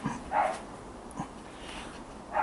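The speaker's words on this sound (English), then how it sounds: "if you can hear the dog in the background barking" A dog barks somewhere in the background of a room, with two or three muffled, moderately distant barks spaced apart over a low steady hum.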